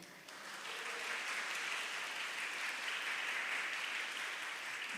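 A church congregation applauds during a sermon, steady sustained clapping from many hands that swells quickly and holds at a moderate, slightly distant level.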